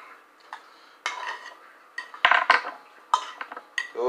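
Food is scraped and spooned onto a plate in a home kitchen, with utensils clinking and scraping against dishes. Sharp clatters come in irregular bursts, close and fairly loud, with no talking.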